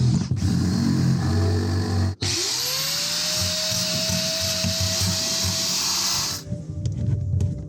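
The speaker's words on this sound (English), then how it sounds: "And what I'm doing is drilling big holes so I can put riv nuts." A power drill whines steadily, drilling big holes in a golf kart race car panel for rivet nuts, with a short cut-off partway through before it spins back up, grinding loudly and close by. No voices.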